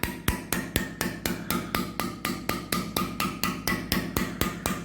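Steady, rapid hammer strikes on metal, evenly spaced at roughly four blows per second, ringing and close, with no talking, as a hammer makes a straight bend in a metal flange on a 1968 International.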